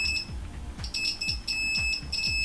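Repeated continuity beeps from a multimeter testing a shorted capacitor on a PlayStation 4 board, sounding as a steady high tone in several short bursts, with low thumps underneath.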